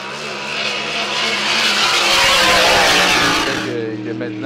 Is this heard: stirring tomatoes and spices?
no